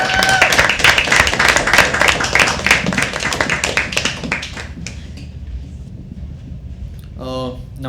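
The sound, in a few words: audience applause at poetry open mic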